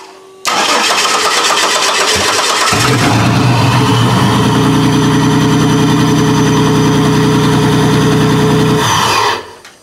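An H-body car's engine, being readied as a demolition derby car, cranks briefly, then catches and settles into a loud, steady idle before shutting off near the end.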